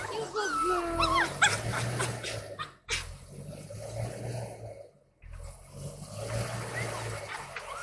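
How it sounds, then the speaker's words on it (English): An excited dog whimpers, yips and whines in rising, wavering cries, loudest early on, then quieter whining continues while people talk nearby. "she's holding my dog, who's absolutely losing her mind"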